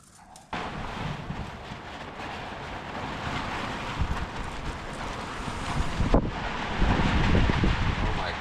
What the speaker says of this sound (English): Gosh, man, it's so windy.